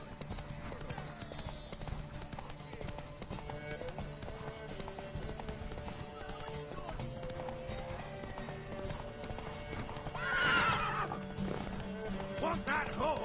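Horse whinnying and hooves clip-clopping in The Witcher 3: Wild Hunt, a steady walking clatter with a louder neigh near the end, layered under game ambience and occasional character voices.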